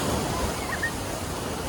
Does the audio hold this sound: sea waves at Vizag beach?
yes